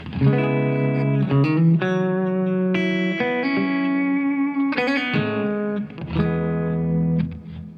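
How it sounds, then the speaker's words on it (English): Electric guitar notes and chords through a Fender Tone Master amp ring out with a long, spacious large hall reverb, each phrase trailing into a wide wash of echo. "I'm just going to add just a large hall reverb."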